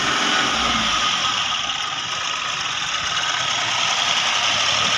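A Mahindra TUV 300 engine idles after an overhaul, a smooth, steady mechanical hum with even vibration, close and loud throughout with no talking.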